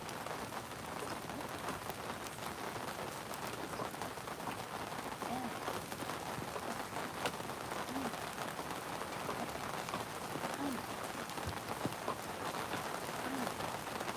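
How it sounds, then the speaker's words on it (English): Steady rain patters across a surface in a constant, even hiss, fairly soft and uninterrupted throughout, with faint bird chirps in the background. "Can you hear the rain?"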